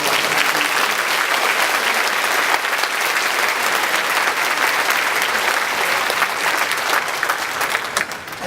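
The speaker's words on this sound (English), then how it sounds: "let's have a warm round of applause" A large audience at a high school commencement ceremony gives a warm, sustained round of applause, thick continuous clapping filling the hall at steady loudness before tapering slightly at the end.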